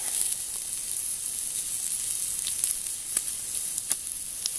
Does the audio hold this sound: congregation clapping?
no